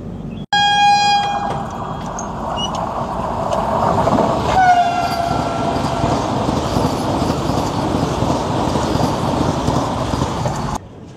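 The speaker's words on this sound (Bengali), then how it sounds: "এটা ছিল ম্যাঙ্গালোর টু মাডগাঁও বন্দে ভারত।" A Mangalore to Madgaon Vande Bharat express passes Barkur station. A loud, sustained horn opens, followed by a brief second honk and a continuous close roar and rumble of carriages rushing by until it cuts off.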